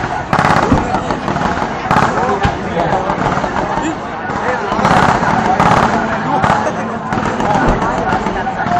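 Gunfire during a military exercise at Wang Nam Khiao in 2014, repeated sharp cracking bursts in irregular rhythm, loud and fairly close, with people talking over the shots.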